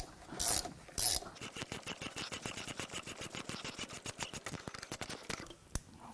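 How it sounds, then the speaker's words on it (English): A ratchet wrench loosens timing cover bolts on a Ford 6.8L three-valve V10 engine during a teardown: a fast, even run of close, crisp clicks, with a few louder metallic knocks at the start and end. "let's get some bolts out of the timing cover"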